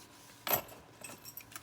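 A pair of small metal keys jangles once in a quick, bright rattle during an unboxing of hardware and locking mechanisms, followed by faint handling noises.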